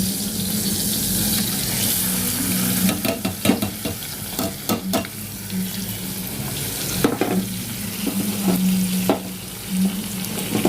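Chopped onions tossed into hot oil for a dried-fish and egg curry, sizzling loudly and steadily, broken by sharp scraping and clanking strokes of a spoon against the pan.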